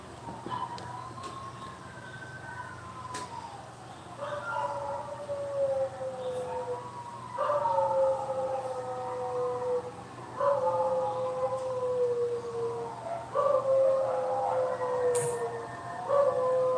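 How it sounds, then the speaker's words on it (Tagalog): Dogs howling in long, wavering, overlapping cries that rise and fall continuously, moderately distant and fairly loud, with no speech. "the dogs are so noisy."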